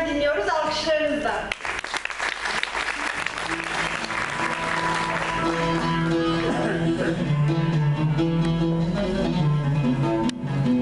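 Applause from a concert audience at a Turkish classical music performance in rast makam, broad and sustained throughout, blending with the opening of instrumental music.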